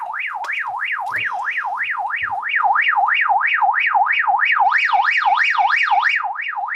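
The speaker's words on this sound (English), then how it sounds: "there is an alarm function which is like really weird." Alarm tone from a Baofeng GT-5TP 2m/70cm handheld radio: a loud, rapid warbling siren sweeping steadily up and down, continuous for several seconds with a slightly louder stretch in the middle.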